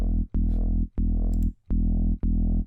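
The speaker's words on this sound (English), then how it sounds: "It gives it a little bit more of a growl, but it's very, very subtle" Growling synth bass patch in the Vital synthesizer using form scaling, five loud sustained notes with short gaps, each with a sharp attack and buzzing distorted harmonics, played alone without voices.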